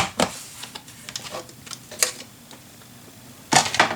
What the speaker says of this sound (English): So I'm going to cut it at 1 inch.